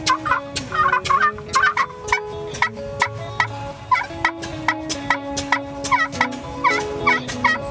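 Repeated hunting turkey calls, a rhythmic series of yelps and clucks in short bursts, loud and close with no talking.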